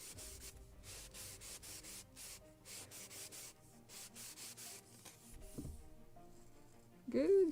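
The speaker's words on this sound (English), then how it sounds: "should I sand a little more in the center?" Sandpaper rubs a wooden yard for a model kit of the 1776 gunboat Philadelphia, a quiet rhythmic series of short scratchy strokes, some faint clatter toward the end.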